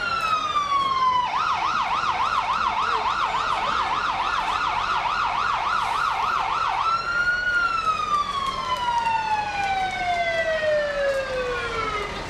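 Emergency sirens from a Jamestown Volunteer Fire Department brush truck and ambulance in a fair parade, a loud wailing siren switching to a fast yelp, then winding down in a long falling tone, with no talk.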